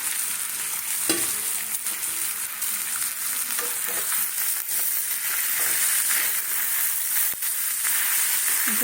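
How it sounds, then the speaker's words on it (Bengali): Green chillies and snake gourd sizzle in a pan of potato curry, a loud continuous frying hiss with occasional stirring scrapes, close up and without speech. "এবার এই লঙ্কাগুলো দেবো আর এই যে চিচিঙ্গাগুলো আছে ওইগুলো দিয়ে দেবো"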